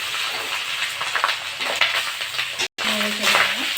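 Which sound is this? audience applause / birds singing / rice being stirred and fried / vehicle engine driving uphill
rice being stirred and fried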